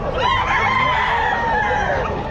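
A rooster crows loudly and close at a pet market in Bocaue, Philippines, one long drawn-out call with a wavering pitch filling the whole moment.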